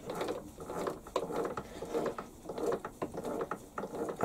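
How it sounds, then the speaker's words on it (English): A 2BA first tap wound in by hand on a lathe, with cutting fluid applied and the tailstock drawn in as the thread starts: close, steady ratcheting clicks and creaks of the turning mechanism repeat in uneven bursts, with no talking. "I'm just going to wind it in by hand. This is the first tap."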